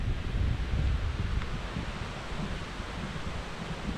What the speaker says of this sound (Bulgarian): Доста силен вятър.